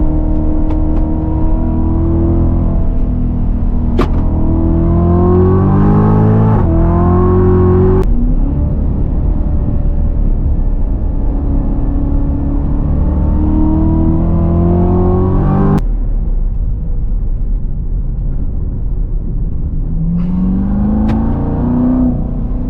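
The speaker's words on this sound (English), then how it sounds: "Let's really push this car in corners and see how well it can do." A C7 Corvette Z06 is driven hard through corners, its engine loud and close as it repeatedly climbs in revs, with sharp gear-change breaks between the rising pulls and no talk over it.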